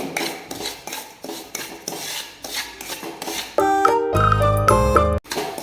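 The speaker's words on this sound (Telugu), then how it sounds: "కడాయిలో ఒక రెండు స్పూన్ల నెయ్యి వేస్తున్నా నెయ్యి కరిగిన తర్వాత ఒక నాలుగు స్పూన్ల బొంబాయి రవ్వ వేస్తున్నా ఈ బొంబాయి రవ్వని కొద్దిగా వేపుకోవాలి" Semolina roasts in ghee in a kadai while a spoon stirs it in a steady rhythm of close scraping strokes. Tonal music cuts in over the last second and a half.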